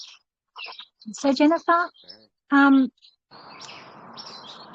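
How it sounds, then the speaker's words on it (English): Birds chirp and call nearby in short high bursts, with a steady hiss in the background and a person speaking over them. "I was a little bit sidetracked by the birds"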